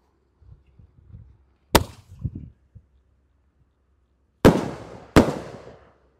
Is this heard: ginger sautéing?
no